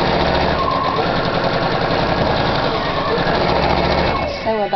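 A sewing machine runs continuously and loudly, stitching fabric for a bow, with a dense rapid motor buzz that slows and stops at the end.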